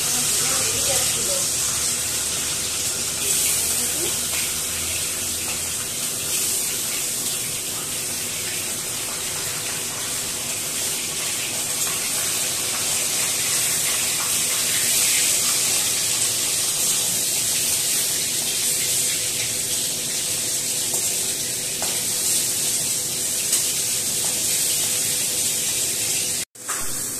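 Fresh pond-caught katla fish pieces frying in hot oil, a loud, steady sizzle and spatter that runs unbroken and close throughout.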